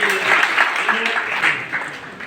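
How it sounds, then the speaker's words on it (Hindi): Applause from an audience at a speech competition prize ceremony in Darbhanga, moderate and continuous, mixed with voices. "जोरदार ताली"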